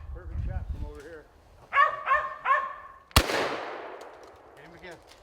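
A squirrel-hunting dog barks in a run of loud, close, repeated yelps and barks, followed by a sharp burst of gunfire, with people talking before and around it.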